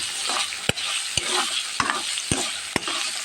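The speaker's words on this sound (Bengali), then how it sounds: "এখন আমি সুন্দর করে আলুটাকে ভেজে নেব" Potatoes fry in hot oil with a bright, steady sizzle, broken by sharp clacks of a spatula against the pan at irregular intervals, no talking.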